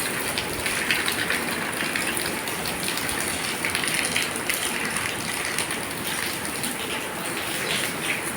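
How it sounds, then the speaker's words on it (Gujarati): Heavy rain pours down steadily, a dense continuous hiss of drops on surfaces, fairly loud and unbroken throughout. "આપણો જોરદાર વરસાદ થઈ ગયો"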